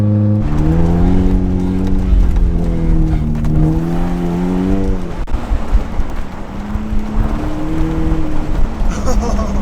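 A car engine drones loudly as the car drives on a slippery icy road on non-ice tires, its revs rising and falling, then giving way to rough rumbling and wind noise.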